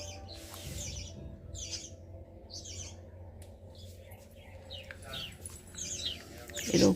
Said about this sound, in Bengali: অনেক পাখি আসে।